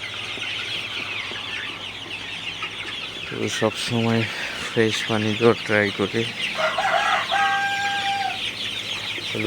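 Forty-one-day-old Sonali chickens cluck and squawk in a hen house in the early morning, a burst of overlapping calls rising midway over a constant background hum, while someone talks.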